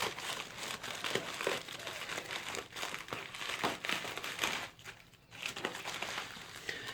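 Plastic and foam packaging for a 2013 Dodge Durango PCM engine computer crinkles and rustles steadily as it is unwrapped, with brief sharp tears and crunches throughout, close and moderately loud.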